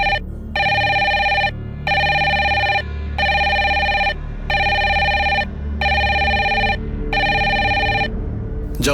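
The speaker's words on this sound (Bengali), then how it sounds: "যাও ফোনটা তোলো।" A telephone bell rings loudly in a home, sounding seven evenly spaced bursts with short silent gaps between them.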